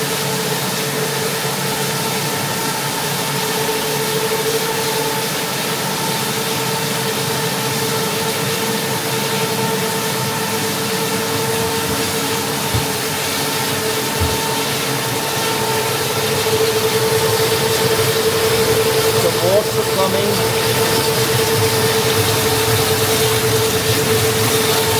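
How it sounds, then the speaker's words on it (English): Six pico-hydro turbines linked in series along a penstock in Mohari Village, Jumla, Nepal, hum in a steady, continuous mechanical drone with constant tonal lines and rushing water, growing slightly louder near the end, with no talk. "here is the last part of the penstock with the 6 turbines all connected in series"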